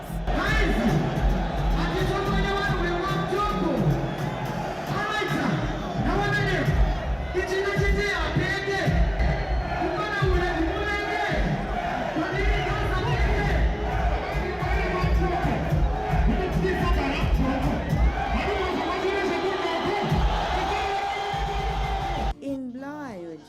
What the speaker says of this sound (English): the crowd was on fire as they cheered on the chanters